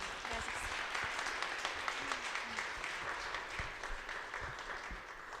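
An audience claps steadily at a symposium for Al-Anon family groups, a dense, even wash of applause from a crowd in a hall that continues throughout with a few louder individual claps.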